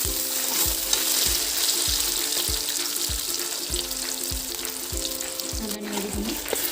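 Sliced onions with bay leaf fry in hot oil in a kadai, a steady loud sizzle broken by regular scraping stirs, with no talking.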